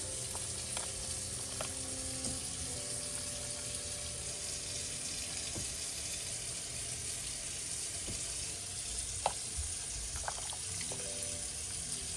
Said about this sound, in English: next we add in 2 cups of water and 2 cups of maple syrup